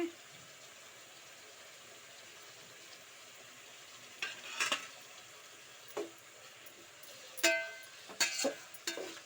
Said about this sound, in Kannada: ಸ್ವಲ್ಪ ಹಾಕಿ ಚೆನ್ನಾಗಿ ಎಣ್ಣೆಯಲ್ಲೇ ಫ್ರೈ ಮಾಡಬೇಕು